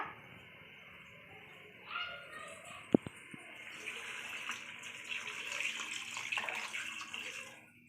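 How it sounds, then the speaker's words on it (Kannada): Water poured into a simmering chicken liver and gizzard gravy with fresh beans, a soft running trickle that swells after a couple of sharp knocks and keeps flowing steadily nearby. "ಸೊ ಈಗ ನಾನು ಸ್ವಲ್ಪ ನೀರನ್ನು ಹಾಕೊತಾ ಇದ್ದೀನಿ"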